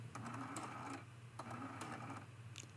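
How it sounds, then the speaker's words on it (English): A sewing machine stitching a quilted cathedral window ornament, taking a couple of short forward stitches with steady mechanical whirring and ticking at close range, no talk over it. "I'm going to take two stitches forward"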